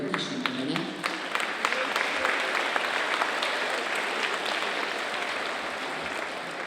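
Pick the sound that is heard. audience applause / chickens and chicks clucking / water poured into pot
audience applause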